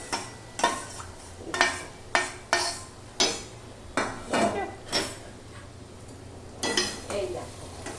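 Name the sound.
fried okra stirred into sesame-mung paste in pan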